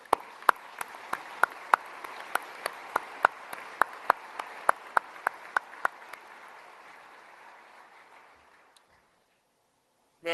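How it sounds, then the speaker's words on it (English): An audience at a military leadership transition ceremony applauds in a steady, dense round of clapping, with a few sharper individual claps standing out, fading out toward the end. "Let's give them another round of applause."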